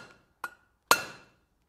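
Two sharp metallic hammer strikes on a rivet set on an anvil while forging a steel frying skillet, the second louder and ringing briefly, close up with no talking.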